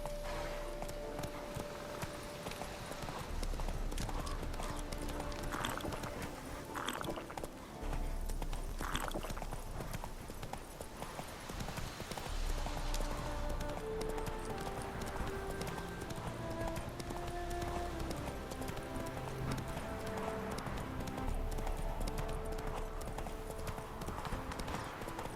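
Roach the horse's hooves clip-clop steadily in The Witcher 3 video game, a rhythmic close trot running throughout over ambient game music, with a few brief voices now and then.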